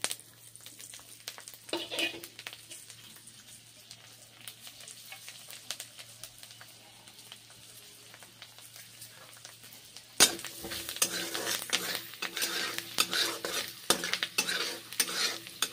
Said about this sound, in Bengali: তারপরে ভেজে নিচ্ছি রসুন বাটার দিয়ে